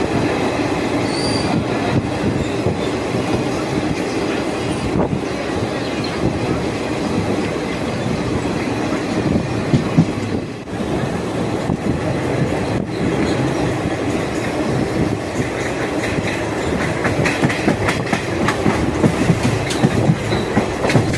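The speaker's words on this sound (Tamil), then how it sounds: "இப்போது நம்ம ரயில் வந்து கும்பகோணம் ரயில் நிலையத்தை நெருங்கி கொண்டிருக்கிறது." Passenger train no. 06190 running on rails from Trichy toward Chengalpattu as it nears Kumbakonam station, a steady loud rumble of wheels and carriage with faint clatter throughout, heard from inside the moving train.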